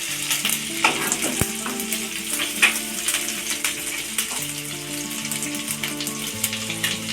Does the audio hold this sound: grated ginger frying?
yes